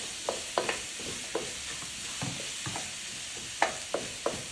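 Chicken and shrimp dirty rice being stirred in a sizzling pan: a soft continuous fry hiss broken by repeated scraping clacks of the spoon against the pan, close and alone without talk.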